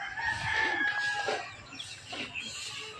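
A rooster crows loudly nearby in a farmyard, a drawn-out call with other hens clucking faintly around it.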